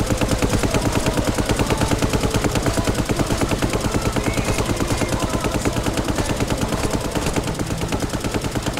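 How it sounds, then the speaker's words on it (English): Steady, relentless machine gun fire from Brick Rigs rattles on without pause, each shot landing in a tight, even rhythm, loud and close throughout. "Can you kill me with those machine guns?"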